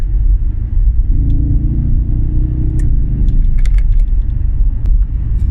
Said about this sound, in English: There's also nothing that sounds better than a V8 in my opinion.